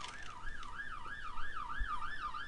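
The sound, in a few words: police car siren outside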